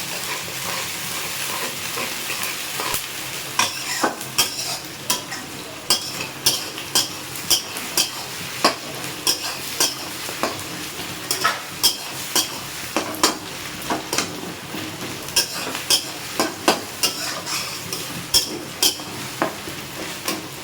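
Onions fry in a hot pan with whole cumin, cinnamon, cardamom, cloves and bay leaf under a constant sizzle, while a utensil scrapes and stirs in regular, clicking strokes about once a second, close and clear.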